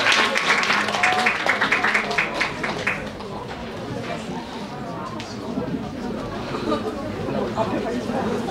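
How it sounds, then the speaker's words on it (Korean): A school chapel audience welcomes a speaker with applause, loud clapping in the first few seconds that thins into murmuring crowd chatter and scattered claps. "우리 큰 박수로 환영하도록 하겠습니다"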